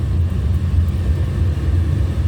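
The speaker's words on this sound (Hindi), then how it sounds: "बहुत ज़्यादा ट्रैफिक है।" Heavy road traffic on a busy city road in Bhopal, a dense, loud, continuous low rumble of engines close by, with no distinct horns or voices.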